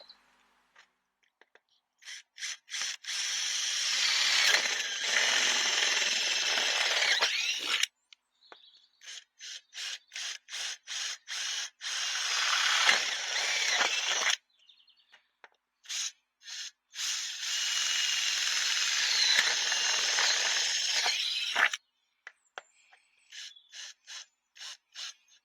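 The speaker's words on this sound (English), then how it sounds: "when you're drilling these holes, it goes without saying, make sure you've got nothing underneath" Power drill boring four corner holes through a board for a log burner installation, heard as three long loud whirring bursts separated by shorter stop-start pulses, close by with no talk.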